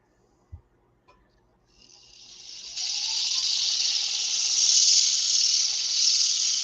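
Sandpaper presses against a spinning wooden finial box on a lathe, a couple of soft knocks first, then a broad steady hiss that swells in and holds loudly to the end.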